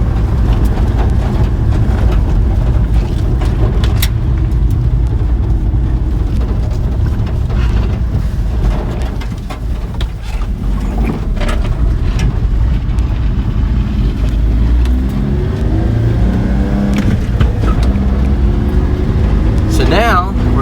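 A Mitsubishi 4x4 Japanese mini truck climbs a steep grade in fourth gear, its engine droning loud and steady with road and wind noise, while people talk inside the cab.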